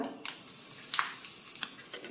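Mustard seeds, turmeric and asafoetida temper in hot oil with faint, scattered crackles and small pops over a soft, continuous sizzle.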